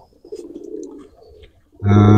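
A pigeon gives a soft, low coo up close, followed by a sudden loud burst of louder noise at the very end.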